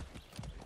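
Horse hooves clip-clopping in the Far Cry 6 video game, a brief run of quick, close, rhythmic hoof strikes.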